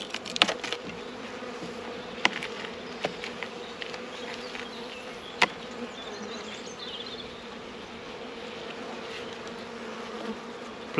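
Honey bees drone steadily inside an opened hive, a close, even buzz with brief sharp ticks and clicks scattered through it and no speech.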